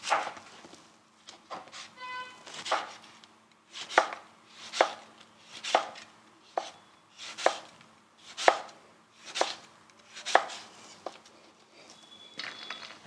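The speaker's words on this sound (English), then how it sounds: "I'll cut a few slices of the red apple as well" A knife cuts through a red apple on a board in a steady series of about a dozen crisp, close chops, evenly spaced roughly a second apart, with no talking over them.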